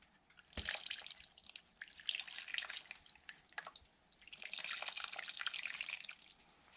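Running water splashes and drips while stones are rinsed clean, a steady wet trickle that swells and fades in bursts, close by with no one speaking.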